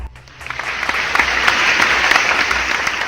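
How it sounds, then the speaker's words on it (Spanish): A seminar audience breaks into strong applause to welcome special guests at a talk on Bram Stoker's Dracula, swelling quickly after a brief pause into loud, sustained clapping from many hands. "vamos a darles la bienvenida con un fuerte aplauso a nuestros invitados especiales"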